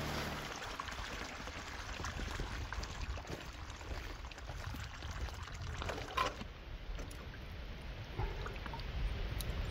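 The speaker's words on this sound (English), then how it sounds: "I'm just gonna tip some water out so that I don't have to worry about floating gold leaving the box." Water is tipped out of a small gold sluice tray, producing a continuous close-up pouring and splashing rush with slight surges, heard alone without talk.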